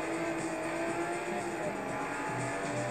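Race car accelerating in Forza Motorsport 4, a steady, dense engine roar that holds a constant drone for the whole stretch with no pauses or talk.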